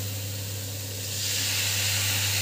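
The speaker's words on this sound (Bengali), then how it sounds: "লঙ্কা গুঁড়ো, হলুদ গুঁড়ো, নুন দিয়ে মশলাটাকে আমি অল্প জল দিয়ে কষিয়ে নেব।" Chilli powder, turmeric and salt masala cooked down with a little water for mutton-fat ghugni, giving a steady hissing, steamy sizzle that grows louder halfway through, close and continuous with no talking.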